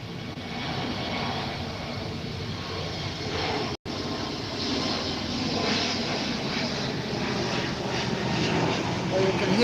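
An aircraft passing near Myrtle Beach International Airport gives a broad, continuous engine roar that holds steady and swells slightly toward the end, heard at a distance through an outdoor microphone with a brief dropout midway.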